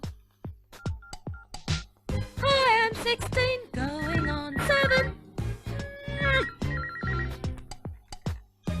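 A mobile phone rings with a bright, warbling melodic ringtone, repeating in short phrases, close and clear with no talking.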